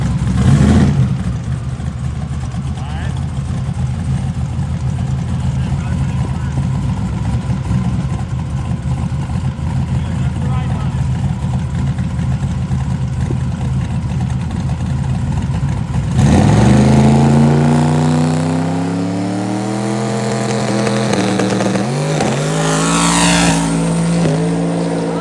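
A Dale truck engine revs and accelerates, a steady loud drone holding for about sixteen seconds before sweeping upward in rising pitch as the truck pulls away, with no talking.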